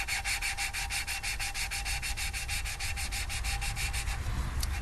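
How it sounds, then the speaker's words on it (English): Rapid, rhythmic rubbing and grinding of a valve lapper lapping Subaru engine valves, a fast back-and-forth scrape repeating steadily, close and loud, with no talk. "I should have sprung for the more expensive valve lappers."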